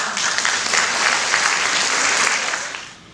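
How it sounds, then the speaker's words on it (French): Applause from an audience at a mathematics rally final in Lyon, a dense, loud burst of clapping that holds steady for about three seconds, then tapers off. "Je pense qu'on peut applaudir Aaron."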